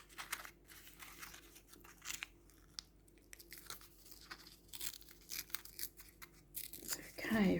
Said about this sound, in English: I might rip a little bit of this one to make it look a little bit more circular